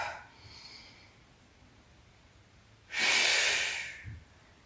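Heavy, forceful breathing during a beginner full-body weight lifting exercise, one long loud exhale standing out after quieter breaths, close to the microphone.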